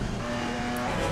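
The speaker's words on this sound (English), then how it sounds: "Full power over this curb, brake, downshift in" A GT4 race car in Assetto Corsa Competizione braking and downshifting, engine note dropping briefly over a steady loud drone, heard alone without talk.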